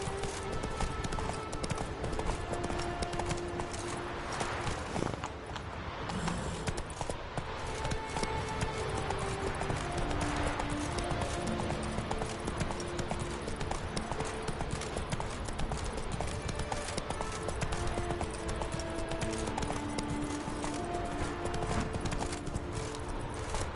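Horse hooves in The Witcher 3 video game pound in a fast, continuous galloping rhythm, loud and close over game ambience throughout.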